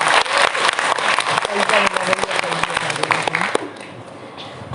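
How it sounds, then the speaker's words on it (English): Audience clapping at a college annual function for an English department, sharp claps over a murmur of voices, thinning out toward the end. "A big clap for her."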